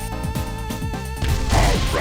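Rev Blow followed by light Rai Mei Shin strikes in the fighting game City of the Wolves. Heavy impact hits land in quick succession over game music, building to a louder crashing burst near the end.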